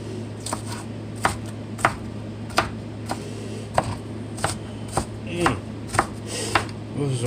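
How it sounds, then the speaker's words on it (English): A knife chops through a ripe onion on a cutting board in a home kitchen, sharp distinct knocks landing in a loose, fairly regular rhythm about once or twice a second, close and clear over a low steady hum. "Pretty sure y'all know how to chop an onion down"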